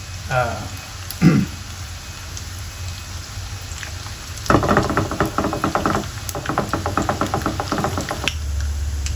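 Anchovies fry crisp in hot oil, with onions used in the dish, giving bursts of dense crackling sizzle that come and go, alongside a few louder clatters and pauses in a home kitchen.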